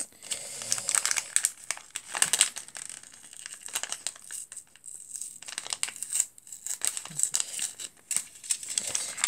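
A package being opened from the back and crinkled: continuous close plastic and paper crinkling with tearing rustles and brief pauses, loud and busy, no talking.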